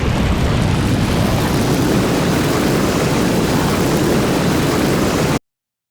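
Looping video game engine boost built in Unreal Engine and Wwise: a dense, roaring, jet-like rush that stays loud and constant for about five seconds, then cuts off abruptly into silence.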